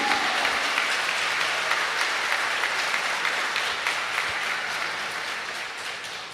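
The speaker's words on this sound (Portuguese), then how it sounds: "Uma salva de palmas para Jesus." A church congregation gives a long round of applause for Jesus during an evening Sunday Mass homily, steady dense clapping that slowly fades toward the end, with no talk over it.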